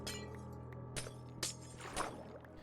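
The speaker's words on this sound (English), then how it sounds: "Get those nice glass shattering sounds." Minecraft glass blocks breaking one after another, with several brisk shattering crashes about half a second apart over a low steady game background hum.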